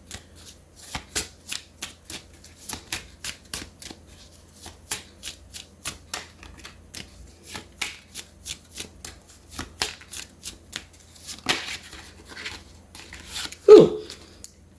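Tarot cards being shuffled by hand, a long run of crisp, evenly spaced riffling flicks close to the listener, with a louder slap of the deck near the end.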